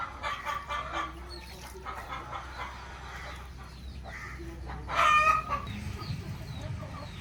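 Desi chickens clucking nearby on a farm, with repeated short clucks and one louder squawk in the middle, over steady background noise and no clear talk.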